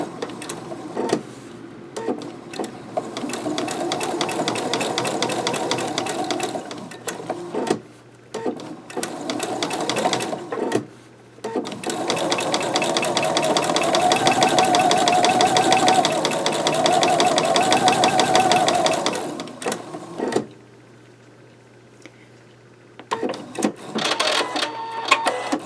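A sewing machine stitches appliqué onto fabric in loud, steady runs of rapid mechanical whirring, broken by several brief pauses and a long final stop before short restarts.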